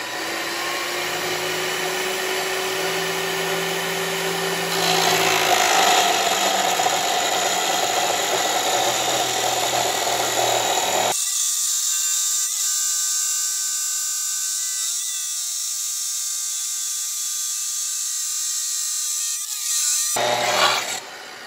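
An abrasive saw blade cuts through metal with a loud, continuous grinding whine lasting about twenty seconds, its tone shifting abruptly partway through before ending suddenly.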